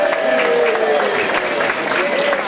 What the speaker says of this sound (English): let's also give a round of applause to Charlie Tataione of George's Cafe